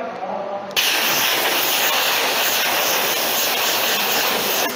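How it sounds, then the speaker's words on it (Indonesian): Compressed air gun blowing dust out of an EFI engine from about 30 cm away, a loud steady hiss that bursts on suddenly after a quieter moment and holds at full strength to the end. "Kita pakai air gun dengan jarak sekitar 30 cm ya"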